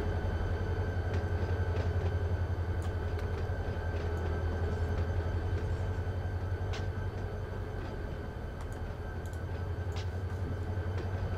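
A train passes in the railroad simulator game Run 8, a steady low rumble of rolling stock with occasional sharp clanks and squeals, moderately loud and heard alone.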